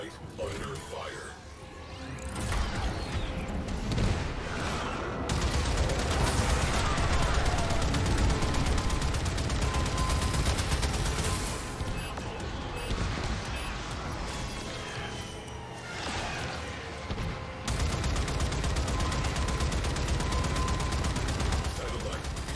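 Gunfire in the video game Warframe during a satellite defense battle against sentient drones: sustained loud rapid bursts and blasts with whooshes and crashes, dense and continuous throughout, with a voice speaking over the action.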